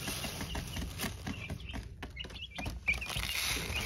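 Five chicks peep continuously in high, thin chirps, overlapping at close range, with light scratching and pattering underneath.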